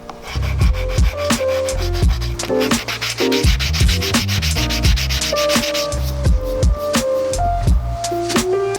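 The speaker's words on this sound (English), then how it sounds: "take some sandpaper on a sanding block and sand those out" Rhythmic back-and-forth rasping of sandpaper on a block over a cutting board made from recycled skateboards, close and fairly loud, with strokes repeating steadily.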